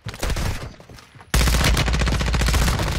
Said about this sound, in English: Lad, there's two teams shooting.